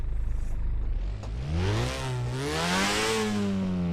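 A turbocharged Mazda MX-5 Miata in the Drift 21 racing game revs up, its engine tone climbing steadily through the gears from a low rumble to a higher whine, fairly quiet.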